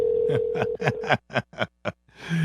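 Telephone dial tone while calling back on a live radio show: a steady tone is cut off by a rapid run of about eight dialing beeps, then ringing or line noise follows.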